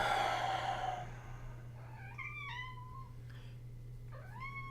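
A cat meows several times with rising and falling tones, fairly close, over a steady low hum in an indoor setting, no speech over it.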